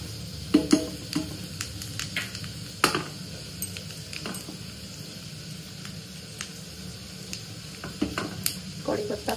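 Cumin seeds sizzle in a pan of hot oil while cooking onion- and garlic-free khichdi, a steady crackling hiss with occasional sharp clinks of a spoon stirring against the pan.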